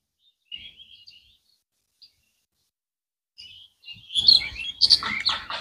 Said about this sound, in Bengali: গাছে গাছে শালিক ডাকতেছে